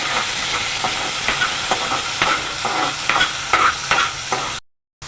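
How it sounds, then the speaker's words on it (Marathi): Tomatoes and curry leaves fry in hot oil in a pan for a suran (elephant foot yam) curry, a steady close sizzle broken by repeated scraping stirs, ending abruptly in silence. "टोमॅटो घाला मिक्स करा"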